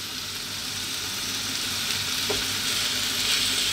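Lamb chops with garlic and rosemary frying in a hot skillet, giving a steady, even sizzle that crackles throughout with no voices.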